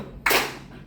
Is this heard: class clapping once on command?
yes